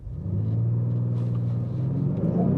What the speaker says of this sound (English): We'll go ahead and we'll brake torque it.